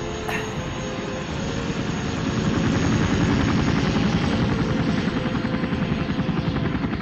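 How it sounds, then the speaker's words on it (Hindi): Helicopter overhead, a loud steady rotor thrum and engine drone that swells a little and holds, continuous and fairly near. "ये हेलीकॉप्टर कहाँ जा रहा है?"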